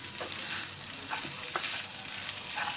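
Fried rice with ginger sizzles steadily in a pan, broken by light, irregular scrapes of a stirring utensil, close and fairly quiet.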